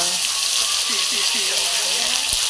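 Ground chilli, cumin and ginger paste sizzle steadily in a hot pan, a constant bright frying hiss with a few soft scrapes of stirring and a faint voice underneath.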